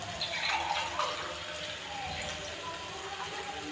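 Water poured into a cooking pot while making a banana, potato and chickpea curry, a steady, close splashing rush lasting throughout.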